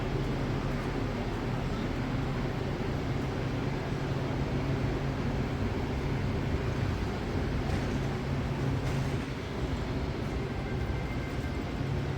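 A steady low rumble and broadband hum of a new Brightline passenger train, continuous and fairly loud, with no voices over it.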